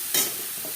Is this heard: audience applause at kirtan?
no